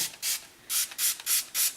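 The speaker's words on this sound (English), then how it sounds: "I'm just going to spray a bit of hot water in there" Five short hissing bursts of hot water sprayed into a soap mold in a quick uneven series, close by and fairly loud, with quiet gaps between.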